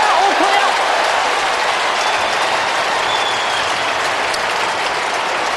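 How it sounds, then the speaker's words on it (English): A large crowd of Melbourne football fans at an Australian rules match against Fremantle gives a loud, sustained derisive roar, a dense, steady wash of noise filling the stadium from start to finish. "There was an enormous Bronx cheer then from the Melbourne fans when Melbourne actually kicked the ball."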